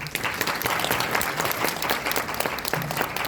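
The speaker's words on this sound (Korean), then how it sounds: "멋진 졸업사를 이루신 조석현 군에게 다시 한번 큰 박수 부탁드리겠습니다." Applause fills a university degree conferment ceremony hall, a dense steady wash of many hands clapping at even loudness throughout, with no voices over it.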